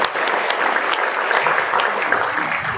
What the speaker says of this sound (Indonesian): Beri tepuk tangan untuk PT Mahkota Sukses Indonesia